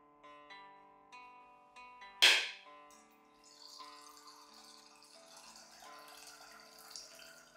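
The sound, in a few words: cracking a coconut and draining its water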